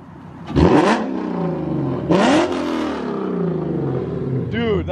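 A car engine revs just after a cold start at a car meet. Two sharp, loud rising revs fade down over a rough idle, with a lighter blip at the end, all close by.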